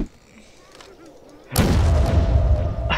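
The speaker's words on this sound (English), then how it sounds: "See, multiple explosions at once." A quiet stretch, then a sudden loud, dense burst of multiple video game explosions in Garry's Mod, booming blasts and crackling that keep rumbling for the rest of the clip.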